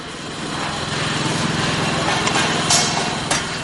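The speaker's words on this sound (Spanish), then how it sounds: "El probador llena el motor de aceite y la máquina hace funcionar el motor para probar su eficacia propulsora y detectar posibles fugas." A Ducati motorcycle engine on a factory assembly line is turned over by a test machine during an oil-filled cold test without firing, giving a steady, close mechanical whir with a rapid low pulse and a couple of brief higher clicks.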